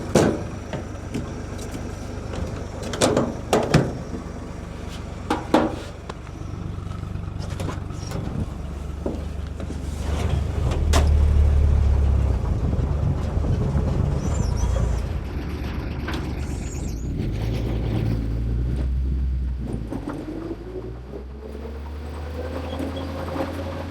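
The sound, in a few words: 1944 Chevrolet pickup truck driving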